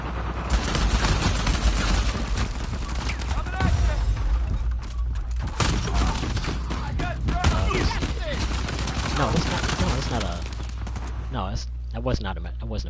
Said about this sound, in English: It was an AK with silencer.